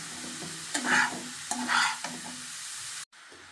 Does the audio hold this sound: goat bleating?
no